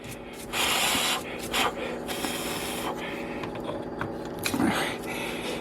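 A small air-powered handpiece hisses and grinds against rock around a fossil crab in short spraying bursts separated by a lower steady mechanical hum.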